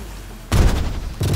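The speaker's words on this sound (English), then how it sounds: "Magic missile." Magic missile spell cast in Pathfinder: Wrath of the Righteous, a sudden loud burst of booming, crackling impacts that kicks in partway through, eases briefly and then flares up again near the end.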